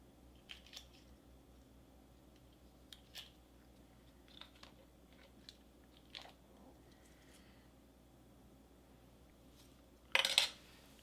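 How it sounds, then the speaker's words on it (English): A spoon scrapes and clinks faintly in a quiet room, sparse taps spaced a second or two apart as sweetened condensed milk is eaten, ending in a louder rustle and clatter. "I'm going to try a little bit on the spoon first."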